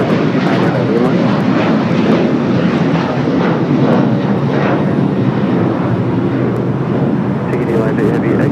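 A Royal Air Maroc Boeing 787 Dreamliner takes off at LAX, a loud, steady jet roar that holds constant throughout.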